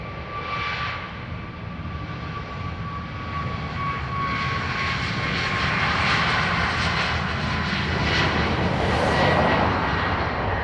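Aer Lingus airliner departing Dublin Airport bound for Minneapolis, a broad jet engine roar that swells steadily as the aircraft rolls, heard from a distance outdoors.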